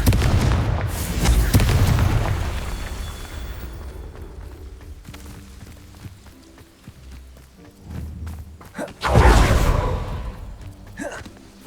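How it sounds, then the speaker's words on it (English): Spell explosions from the video game Hogwarts Legacy: the Bombarda and Confringo spells go off as a loud booming blast near the start and another sharp burst later, with rumbling and crackling between and a brief voice. "Bombarda! Confringo!"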